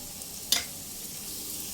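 Diced potato and carrot fry with turmeric and salt in a pan for chirer polao, a steady close sizzle broken by one sharp utensil clink, with no talking.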